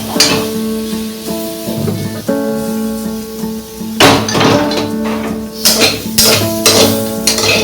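Meat frying in a pan, with a loud close sizzle, metallic clanks and scrapes of a utensil against the pan, and a humming tone underneath.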